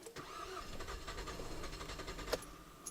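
A car engine cranks and catches after a routine oil change and combustion chamber cleaning, running as a steady mid-pitched rumble with a couple of sharper knocks near the end and no talk.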